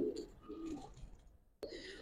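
Giribaz pigeons in a loft give soft, low coos, a couple of short murmuring phrases close by, then a brief pause before another quiet coo.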